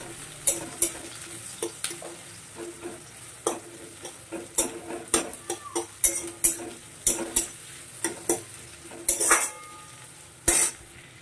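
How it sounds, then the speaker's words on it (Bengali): Beresta, onions fried for biryani, browning in hot oil in a pan, a soft continuous sizzle broken by frequent sharp spatula clacks and scrapes against the pan, close, with no talking. "দেখো তেলটা গরম হয়ে গেছে, এবার আমি ব্রেস্তাটা ভেজে নেব"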